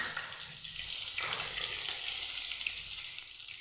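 Pointed gourd (potol) slices fry in a pan, a soft, continuous sizzle with a light crackle, fairly quiet and close, with no talking.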